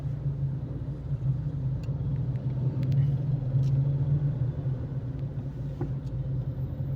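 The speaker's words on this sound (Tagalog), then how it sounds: "So traffic na pala ngayon dito" Slow city traffic on Pandan Road in Angeles City rolls by as a steady low engine rumble with faint mechanical clicks, constant and fairly close, with no talk.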